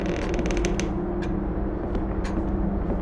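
Creaking doors in the horror video game The Nightfall produce a dense, grinding creak over a low droning background, with sharp clicks and knocks scattered through it and no talk.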